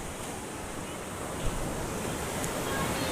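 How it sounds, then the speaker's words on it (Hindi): Sea waves at Konda beach in Visakhapatnam wash steadily as a continuous broadband surf roar, with some wind buffeting the microphone throughout and no clear speech. "ये समुद्र की लहरें हैं"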